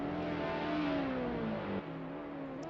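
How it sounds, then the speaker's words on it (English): Lotus Exige engine in a racing video game, a steady mid-pitched drone that swells as revs climb and then dips slightly, continuous and fairly loud with no talk. "The noise coming out of the cars"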